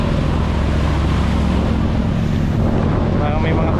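Steady wind gusting outdoors by the water with a view out to sea, a continuous loud rush buffeting the microphone throughout, with faint low rumble beneath.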